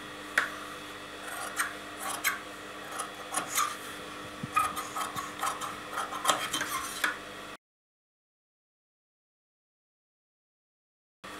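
Scissors cut away leftover fabric from a stitched blouse back, heard as a series of close, crisp snips and rubbing sounds for several seconds, followed by silence.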